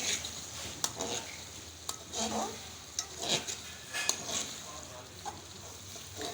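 Beef korma being stirred with a spoon in a pot, giving soft intermittent scraping and light sizzling over several seconds, fairly quiet with no talking.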